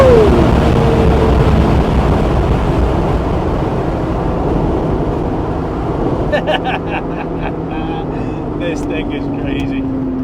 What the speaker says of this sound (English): That supercharging noise is so addictive.